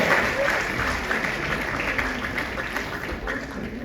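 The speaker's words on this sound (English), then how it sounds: "Let's give Hannah a warm round of applause." An audience at a charity fashion show applauds to welcome a speaker, a dense steady wash of clapping with some crowd voices mixed in, loud and continuous throughout.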